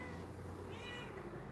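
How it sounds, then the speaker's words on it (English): A pet cat, a little female, gives one clear, close meow, drawn out and rising, with nothing else around it. "My little girl is meowing at her mommy"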